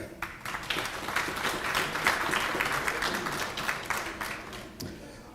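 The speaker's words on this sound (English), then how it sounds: "another heartfelt round of applause in absentia, please" Applause at a teaching and learning festival, a steady patter of many hands clapping at moderate volume for several seconds.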